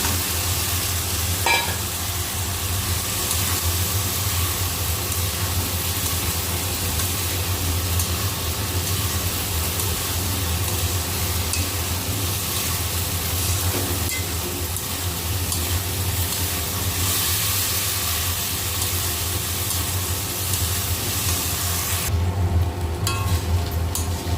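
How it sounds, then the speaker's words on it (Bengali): Soya chunks and potatoes sizzle steadily as they fry with spices in a pan, a continuous close crackling hiss with occasional stirring scrapes and no talking. "দেখতেই পাচ্ছ মশলা মানে সোয়াবিনটা মশলার সাথে কষানো হয়ে গিয়েছে"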